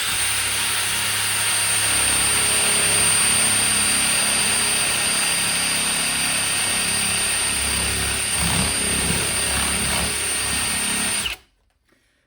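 A Milwaukee Fuel 3697-22 hammer drill drives a spade bit through solid oak. Its loud, steady whine holds evenly under load for about eleven seconds, then cuts off abruptly into silence.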